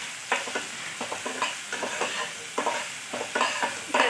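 Sliced onions fry in hot oil for a prawn malai curry, with a spatula scraping and stirring in irregular bursts over a steady close sizzle.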